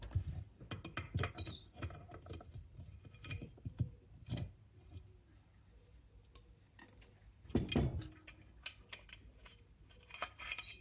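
A spanner works on the small split pin of an old Tilley paraffin lamp, giving faint metallic clicks, taps and clinks scattered irregularly, close by and quiet, with no talking.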